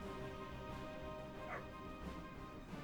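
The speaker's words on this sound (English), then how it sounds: "Maybe hear my dog barking in the background." A dog barks faintly in the background, distant and intermittent, under a steady droning hum.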